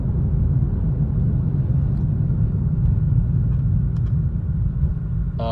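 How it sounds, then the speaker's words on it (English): A white Subaru WRX passes on the road, heard as a steady, loud low rumble of engine and road noise that holds throughout without any voices. "Here comes a WRX right here."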